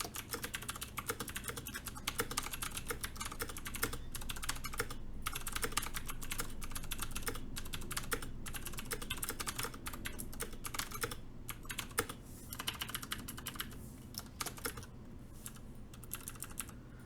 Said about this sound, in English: I'm just going to give this a quick little smash here, just to give it a typing test.